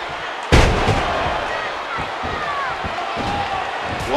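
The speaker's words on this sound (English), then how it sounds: "What an impact from that kick." A sharp, heavy kick impact thud rings out near the start of a wrestling match in the video game WWE 2K14, followed by a noisy crowd roar that continues underneath.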